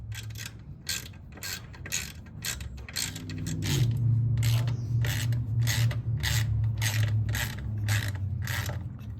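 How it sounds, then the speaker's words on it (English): Repeated metallic ratcheting clicks from a wrench loosening the skid plate bolts on a Yamaha Raptor 660 quad, in a fast steady rhythm, close and fairly loud, with a low hum underneath. "just remove this skid plate so I can reach it with a regular wrench from underneath"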